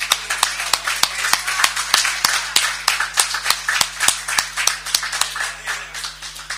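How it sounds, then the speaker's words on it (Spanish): A tourism-industry toast in Bogotá ends with a small group clapping in an even, rhythmic beat, the sharp individual claps close and distinct for several seconds. "te pido un aplauso a todos"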